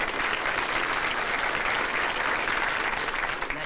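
Dense, steady audience applause in a 1963 television variety show studio, a continuous close wash of clapping for the whole few seconds.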